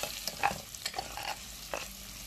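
Onions sauté in a pan for misua with a faint, steady sizzle broken by a few soft scrapes and clicks of stirring, and no one speaks.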